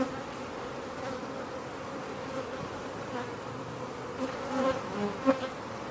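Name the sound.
honeybees buzzing in an open hive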